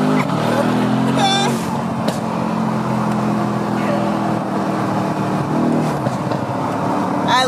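A 2019 Mercedes-AMG C63S with blow-off valves revs loudly up close, a steady engine roar with sharp whistling and hissing valve releases over it, while people talk and react throughout.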